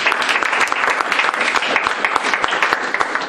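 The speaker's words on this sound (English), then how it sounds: "let's give a round of applause for this great presentation" Audience applause at an app-publishing talk, loud dense clapping that holds steady from start to finish, close and alone without speech.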